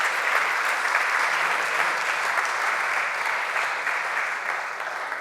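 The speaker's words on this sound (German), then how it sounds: "einmal bitte einmal Applaus für diese beiden" A dense, even round of clapping rises from an audience at a resilience expo, loud and sustained without pause, easing off slightly at the very end.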